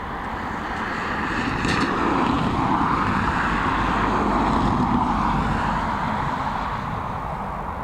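A United airliner at Dublin Airport gives a steady, broad engine roar that swells slightly and fades, heard at a moderate distance with no talk.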